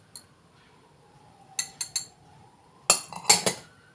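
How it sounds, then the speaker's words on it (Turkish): Cold milk, sugar, starch and cocoa whisked in a bowl for a chocolate sauce produce sparse, close metallic clinks in short clusters against the bowl, with quiet gaps between them and no talk. "Bunları güzel çırpıyoruz."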